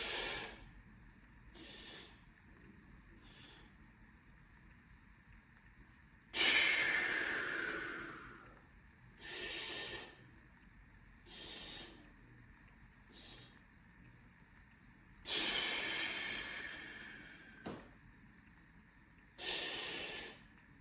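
Three-stage breathing during a fascia movement exercise, with repeated loud, close breaths through the nose and mouth, short sniffing inhales alternating with longer hissing exhales, spaced by quiet pauses.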